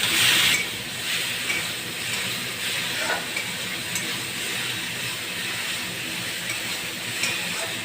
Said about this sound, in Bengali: সব মশলাগুলো দেখুন ভালো করে ভাজা হয়ে গেছে, তেলও ছেড়ে গেছে।